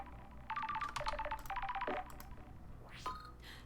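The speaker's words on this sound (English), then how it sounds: "A phone call from Judge is unexpected." A stylised electronic phone ring from the video game Paradise Killer sounds as two quick rising trills of beeps, fairly quiet and alone, followed by a brief synthetic swoop.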